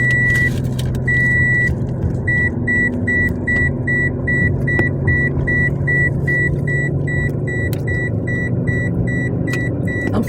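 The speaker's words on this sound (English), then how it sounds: "that's my seatbelt alarm going off" A car's seatbelt warning alarm sounds a steady train of short, evenly spaced electronic beeps over the low rumble of the running vehicle, close and clear.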